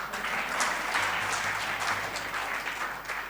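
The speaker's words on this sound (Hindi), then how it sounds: "ताली बजा सकते हैं" Audience at a Vyasa Puja celebration clapping together, a steady, moderately loud patter of many hands sustained throughout with a faint low hum beneath.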